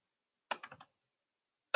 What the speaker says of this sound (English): double click each box to start typing